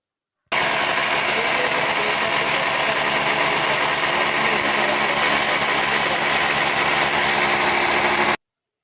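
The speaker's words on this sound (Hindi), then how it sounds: "अब हम ग्राइंड करेंगे तेज़पात को" A kitchen mixer grinder grinds dried bay leaves with a loud, steady high-pitched motor whine and rattle. It runs unbroken for about eight seconds and then stops abruptly.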